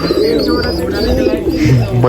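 A flock of pigeons kept for a Nashik CIDCO festival flying contest coos and rustles nearby, with soft chirps mixed in, while someone speaks loudly over the birds throughout.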